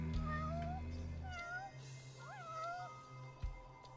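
Two cats meow in a game, several drawn-out rising and falling cries in turn, clear and fairly close over a steady low hum, with a thump near the end.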